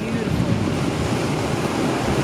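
Ocean surf breaking at Teahupoo reef in Tahiti, heard as a steady, loud broadband wash of waves with wind buffeting the microphone throughout, no voices present.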